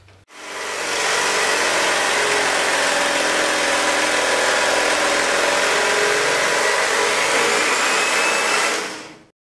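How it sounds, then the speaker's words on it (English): An electric knife with warmed blades buzzes steadily through a frozen homemade ice cream cake, a loud continuous motor whir that starts abruptly, holds for about nine seconds and cuts off, with no talking. "I also warmed the blades on the electric knife a little bit to just an ease in cutting this."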